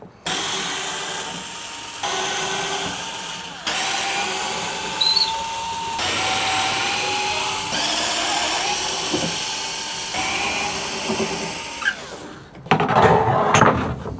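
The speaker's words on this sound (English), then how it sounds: "it would be handy if you have an electric drill" A steady electric drill whines in several sustained bursts removing Torx screws from a 4th-generation Ram tailgate, pausing between each, with a harsher, louder rattling burst at the end.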